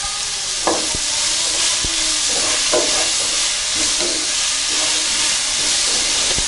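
Sliced onions sautéing with a pinch of salt in a pan for Kerala chicken roast, a continuous hissing sizzle with a few soft scrapes of stirring, close and steady throughout.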